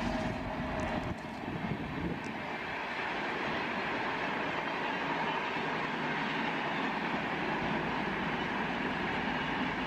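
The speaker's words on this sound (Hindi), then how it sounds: "अजमेर से दिल्ली की शताब्दी एक्सप्रेस" The Ajmer–Delhi Shatabdi Express passes on the tracks in a steady, loud roar of wheels and carriages that holds evenly throughout with no clear breaks.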